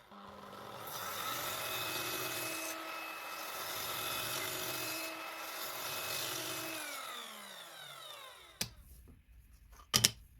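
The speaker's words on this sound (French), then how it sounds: "Les plaquettes sont découpées dans du bois de frêne à la scie radiale" A radial saw cuts ash wood into knife scales, a sustained whining, grinding buzz that winds down and stops near the end, followed by two brief knocks.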